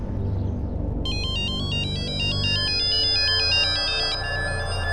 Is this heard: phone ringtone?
yes